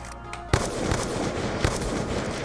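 A gunshot fired in the shooter game Black Ops 2 lands as a sharp close bang, followed by a dense crackling wash and another softer report before it fades out.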